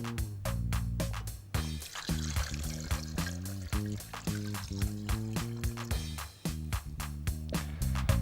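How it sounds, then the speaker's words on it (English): Water poured into a glass vase holding pebbles gives a soft, continuous splashing trickle, partly buried under louder background music. "Next, we pour the water."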